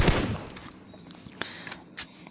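Video game gunfire in a shooter battle: a loud burst of rapid shots at the start, then a few sharper scattered shots and clattering effects trailing off, with no voices.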